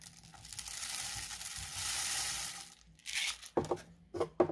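Dry rice and beans cascade and patter in a soft rushing stream inside a homemade rainstick, then stop and resume in short, uneven bursts of rattling.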